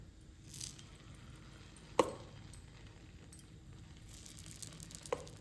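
Sweet paniyaram batter sizzles in a hot paniyaram pan, a faint, steady, close hiss with a couple of small clicks and taps.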